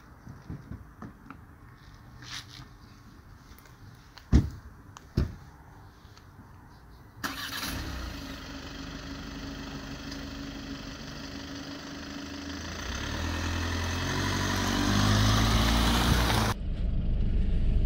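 A 2020 Volkswagen Passat engine cranks and catches, then settles into a steady idle with a low rumble that gradually grows louder, following a few sharp knocks and clicks from inside the car.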